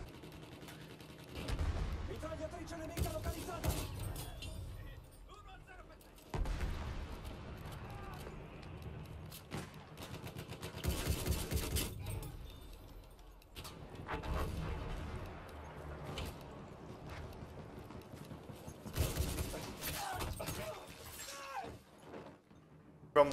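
Heavy cannon and gunfire in a Battlefield 1 battle, several loud booming blasts spaced through the stretch amid distant shooting and clatter, with players talking over parts of it.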